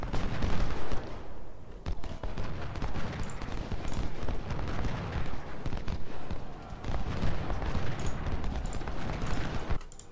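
Rapid, dense musket and cannon fire from a Civil War battle at First Bull Run in the strategy game Ultimate General: Civil War, a near-continuous crackling barrage with sharp bursts throughout, loud and without pause.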